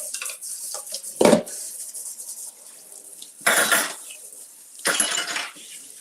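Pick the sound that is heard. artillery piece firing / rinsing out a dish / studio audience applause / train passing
rinsing out a dish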